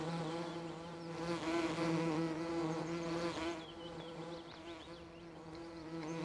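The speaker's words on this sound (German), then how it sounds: "Und jetzt haben wir hier ein Bienenhaus stehen." Bees buzz around a beehive in Farming Simulator 2013, a steady layered humming drone with harmonic tones, swelling slightly then easing, moderately quiet and with no voices.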